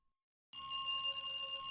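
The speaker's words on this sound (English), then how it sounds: "The ringing echoes down the hallway." Telephone in the horror game Dread Weight starts ringing abruptly after a brief silence, a bright sustained electronic bell tone holding steady and close, with no voices.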